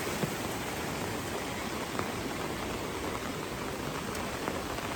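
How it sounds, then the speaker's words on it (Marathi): Light rain falls in a steady, even hiss, with a few faint drops tapping nearby. "आता पाऊस एक सर लागून गेली होती आणि आता बारीक बारीक पडते"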